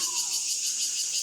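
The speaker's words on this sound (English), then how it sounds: "Cicadas." Cicadas shrill loudly near a big limestone cliff in a forest recreation area, a dense, piercing, pulsing buzz that fills the whole moment with no talking.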